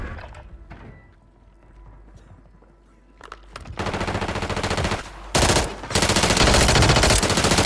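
Rapid, loud automatic gunfire in the video game Call of Duty bursts in after quiet clicks and faint noises, continuing in dense rattling volleys with a brief break.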